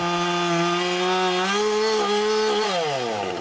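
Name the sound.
fuel-injected chainsaw running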